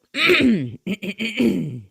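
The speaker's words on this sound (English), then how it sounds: "I have to clear my throat, and let me clear my throat" A person clears their throat several times in quick succession, with rough, gravelly bursts close to the microphone and brief pauses between them.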